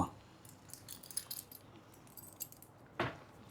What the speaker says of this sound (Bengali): এটা বাইকের চাবি